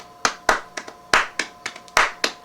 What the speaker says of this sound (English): these claps, when you render them, should be played very light and tight to the hand